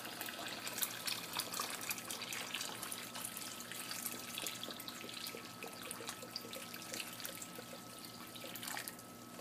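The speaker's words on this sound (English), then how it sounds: "I'm going to go ahead and put some more water in there" Water runs steadily into a canner pot for several seconds, a continuous close splashing and trickling with no talking.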